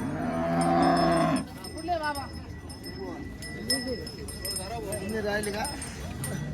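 A cow at a cattle market in Kopargaon lets out a loud, drawn-out moo near the start, followed by someone talking over market chatter and background noise.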